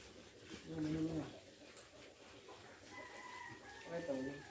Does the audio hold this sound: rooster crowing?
yes